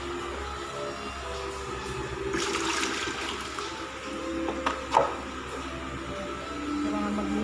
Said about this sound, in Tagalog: Ganyan kalakas ang tubig.